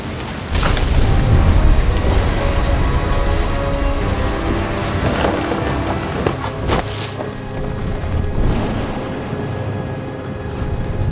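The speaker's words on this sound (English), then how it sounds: "The thunder sounded much too close and full of angry power" Thunder rumbles over steady heavy rain in What Remains of Edith Finch, a dense continuous wash with sharp cracks and booms scattered through, loud and close, with no talking.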